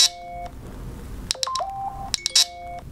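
A water-damaged iPhone XS gives off a series of odd electronic tones, several steady pitched beeps and warbling notes, close and fairly loud with no talking.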